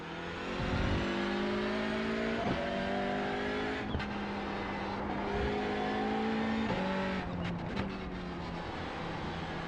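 A Honda Civic TCR race car engine in the iRacing sim revs hard and continuously, its pitch climbing and dropping sharply at several gear shifts, loud and close throughout with no voices.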